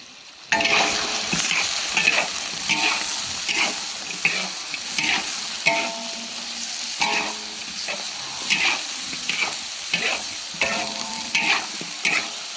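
Dried chilies and dried Sichuan peppercorns stir-fried in a wok, a steady crackling sizzle broken by repeated scraping stirs at a loose rhythm, close and fairly loud, with no talking.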